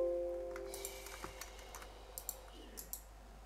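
A few light computer keyboard keystrokes, soft clicks spaced out while pressing Ctrl+V to paste, faint and close against a quiet background hum.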